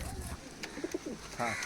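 Teddy pigeons in a loft at Canning give soft, repeated coos amid faint background noise and light rustling.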